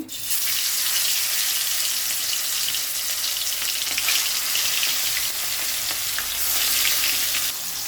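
Chicken pieces frying in hot oil in a wok give a loud, continuous, close sizzle with crackling spits, swelling slightly near the end, with no talking.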